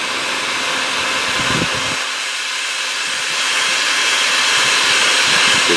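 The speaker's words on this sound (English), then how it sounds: "I'm using the heat gun. We'll get it hot." Heat gun blowing hot air onto a transmission fluid line during a Toyota transmission fluid drain and fill, a steady loud broadband hiss and roar running unbroken throughout, no voices.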